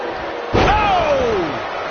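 A single heavy slam of a rocket kick landing in a wrestling match, a sharp thud followed by a falling whistle-like tone.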